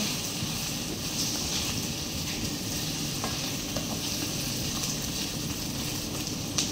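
Food for adobo with hotdog fries in a pan, an even, close sizzle with occasional stirring scrapes running throughout and no voices.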